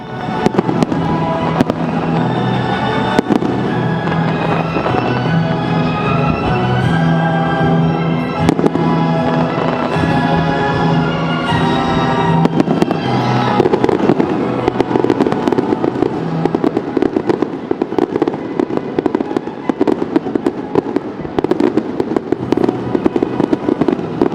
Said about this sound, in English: tonight they are judging a match between the Philippines and Australia in the Macau International Fireworks Display Contest